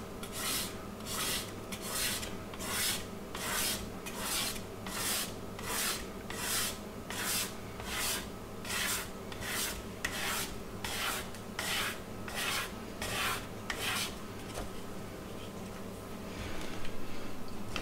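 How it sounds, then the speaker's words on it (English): Repeated rasping scrapes as excess slurry mix is pulled off a concrete countertop being patched for air bubble voids, about sixteen steady strokes roughly every 0.7 seconds, close and moderately loud, with no talking, trailing off near the end. "What I'm scraping off almost looks like more than I mixed in the first place."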